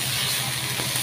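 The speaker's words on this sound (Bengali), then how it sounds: "এই যে শুকনো মরিচ ভেজে নিয়েছি" Dried chillies sizzle in a pan in a home kitchen, a steady close hiss of frying over a low hum, with no talk.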